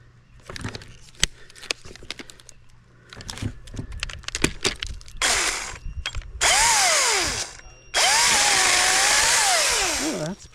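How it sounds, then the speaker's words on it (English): An Echo DCS 2500T brushless battery top-handle chainsaw making a first cut: scattered clicks and rattles at first, then loud, close, high-pitched whining bursts whose pitch dips and climbs as the chain bites into the wood. "this is the very first cut with the Echo DCS 2500T brushless top handle chainsaw"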